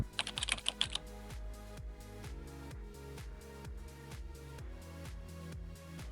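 A computer keyboard is typed on quietly, starting with a quick burst of crisp key clicks and settling into lighter, rhythmic tapping.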